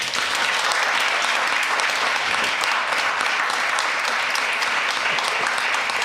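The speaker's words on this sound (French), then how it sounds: "d'applaudir celui dont l'anniversaire nous fêtons aujourd'hui." A church congregation applauds during a worship service, a dense, sustained roar of many hands at a steady loud level with no break.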